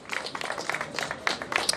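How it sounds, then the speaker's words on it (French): A crowd applauds the second-place finisher at a cycling race awards ceremony in Roquefort-la-Bédoule, with steady scattered clapping of moderate loudness. "Applaudissements pour Alexis Lioré de la C Marseillaise."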